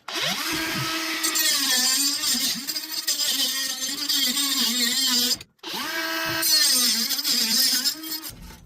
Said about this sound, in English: I'm just going in with my Ryobi cutoff tool.